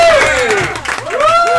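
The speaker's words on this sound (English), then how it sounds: "Give a round of applause" An audience at the Funny Business live comedy venue in Nyack, New York, applauds and cheers steadily throughout, with whoops and whistles rising over the clapping before a brief dip and a strong return.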